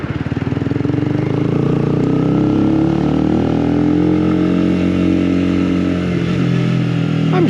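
A Honda CBR125 sports bike engine drones loud and close while riding, holding a steady, buzzing pitch with slight rises and falls as the bike leans through corners.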